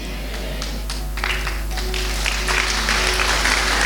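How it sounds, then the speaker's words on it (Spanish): Church congregation applauding, a steady close wash of clapping over a low constant hum, building slightly toward the end. "Ese aplauso es para el Señor."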